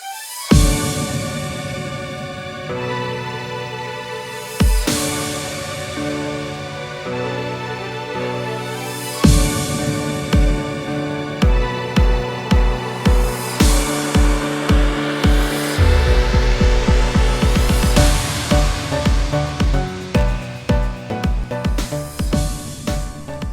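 A finished electro track with a sparse melodic opening builds into a full mix driven by rapid, punchy bass kicks, loud and continuous throughout.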